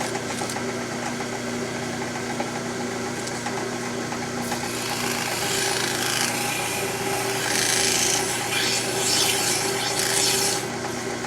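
Steady mechanical whirring of a drill press spinning a pinewood derby car axle against sandpaper, a dry, raspy sanding sound, continuous and fairly quiet, growing slightly rougher partway through.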